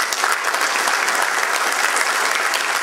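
Audience applause welcoming a columnist to the stage at a talk, a steady dense wash of many hands clapping, fairly loud and even throughout with no voices over it.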